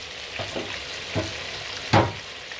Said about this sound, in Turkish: Evet arkadaşlar etlerimiz güzelce kızarıyor